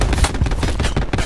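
Rapid gunfire in Call of Duty: Black Ops 4, a loud, dense, continuous burst of cracking shots with no pauses.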